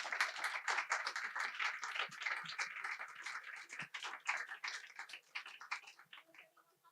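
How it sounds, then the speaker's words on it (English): Sustained applause from a conference audience for the speakers, a dense patter of many hands clapping that thins out toward the end. "If we could give our speakers another round of applause"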